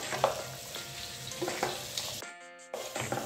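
Onion and mixed vegetables stir-fried for veg fried rice, a steady close sizzle broken by scraping spatula strokes, with a brief drop in the noise partway through before the frying resumes.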